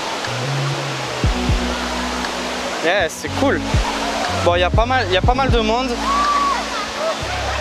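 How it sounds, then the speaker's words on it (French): A waterfall near Kuala Lumpur pours as a steady broadband roar that runs unbroken throughout, with people talking and calling out over it. "Et regarde-moi cette belle cascade."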